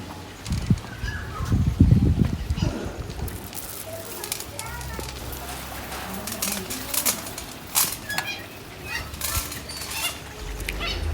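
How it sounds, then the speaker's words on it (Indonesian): Birds in a walk-through aviary at a tourist park, a mix of chirps, pigeon-like coos and brief wing flutters, with louder flapping bursts early on and a steady hum of background chatter from visitors. "pengunjung akan disambut oleh suara kicauan burung dari berbagai jenis dan warna yang berterbangan bebas"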